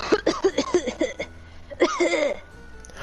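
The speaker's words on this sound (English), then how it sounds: "Can you over dramatically cough?" A person gives an exaggerated, over-dramatic cough in a rapid series of close, choppy bursts, then a short pause, then another burst.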